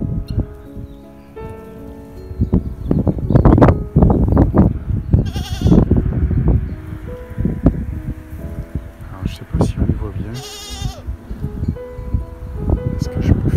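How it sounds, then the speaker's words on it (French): Sheep and goats on a small farm in Vila Nova de Milfontes, Portugal, bleat repeatedly, some calls loud and close and others fainter, mixed with a person talking and rustling noises. "Là on a un petit élevage de moutons et de chèvres."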